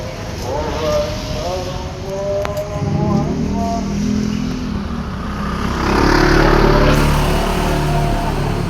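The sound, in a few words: motorcycle engine running while riding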